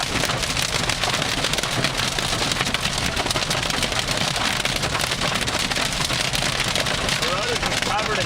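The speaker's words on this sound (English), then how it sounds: "The road is just covered in hail." Hail pounds on a car during a storm near Edmonton, Canada, with the road covered in it. It makes a dense, loud, continuous drumming roar across the whole span, and a voice is faintly present beneath it.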